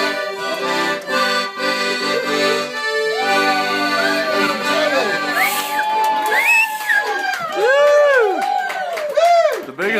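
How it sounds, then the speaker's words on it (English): Audience cheering, whooping and shouting rise after an accordion song, loud and sustained under lively crowd chatter with excited voices on top. "The biggest applause. I've ever played an accordion."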